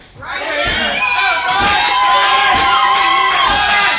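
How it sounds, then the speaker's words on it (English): Crowd at an independent CCW SURGE pro wrestling show cheers and shouts steadily to rally a wrestler caught in a headlock, loud and sustained throughout with scattered yells and a busy, echoing arena roar. "The crowd trying to rally Bryce back into this contest."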